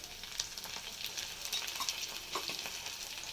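Ginger garlic paste fries with browned onions in a pan for a prawn dish, a soft, steady sizzle with light stirring, fairly quiet and close.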